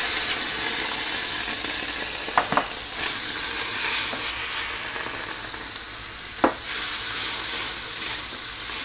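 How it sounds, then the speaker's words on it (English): Tomatoes frying in hot oil for chicken stew, a continuous loud sizzle with a few sharp scrapes and clinks of a spoon stirring against the pan. "Okay, so this has been frying for a minute or two."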